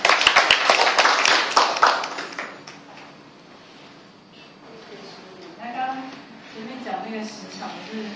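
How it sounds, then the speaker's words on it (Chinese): Audience applause welcoming Yingxiu at a gathering, a loud burst of clapping that fades after about two seconds, followed by quieter room sounds and a voice talking. "我们以热烈的掌声欢迎盈秀"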